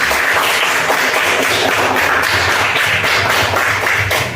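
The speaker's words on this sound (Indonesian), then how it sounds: "Tepuk tangan untuk kita semua." A classroom group applauds together with steady, dense clapping that holds at an even level throughout, close and loud.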